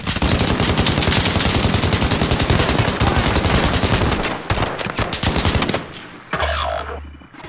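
Dense, sustained automatic gunfire from a Call of Duty Modern Warfare match, loud and continuous rapid bursts filling most of the clip, thinning into scattered shots and a low rumble near the end.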